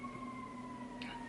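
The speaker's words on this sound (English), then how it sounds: "You cannot have a video of mine without having sirens." Emergency vehicle siren out in a city, a steady wailing tone held through the moment at moderate distance, with a brief brighter swell near the end over low traffic rumble.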